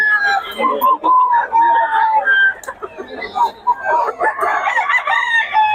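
A local banded Sweater gamecock crows repeatedly amid clucking from nearby fowl, with loud, dense calls overlapping throughout and people talking in the background.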